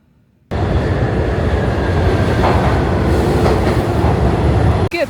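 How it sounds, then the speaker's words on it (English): A New York City subway train rumbles along with a loud, dense roar of wheels and car noise, starting abruptly after a brief quiet moment and holding steady close around the listener before a short dip at the end. "I've just jumped on the subway to go to Crumble Cookie."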